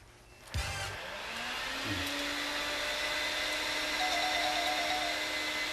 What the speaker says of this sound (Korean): 청소기 켜셔도 돼요.